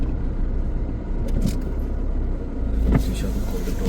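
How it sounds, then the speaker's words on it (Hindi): A car engine rumbles low and steady as the vehicle reverses near an iron bridge on an early-morning jungle drive, with someone talking over it and a brief louder surge near the end. "पीछे कर ली मैंने गाड़ी"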